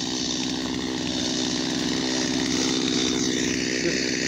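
MS-250 chainsaw cutting down a tree, running loud and close with a steady high engine whine throughout.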